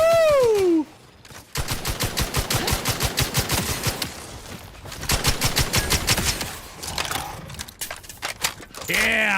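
Automatic gunfire from a weapon in The Outer Worlds 2 crackles in rapid bursts: one long volley, a brief pause, a second sustained burst, then short shots near the end, loud and close.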